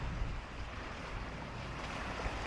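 Sea waves surge and wash along a rugged coastline in a continuous broad roar, heard from a distance with gusts of wind buffeting the microphone and no talking.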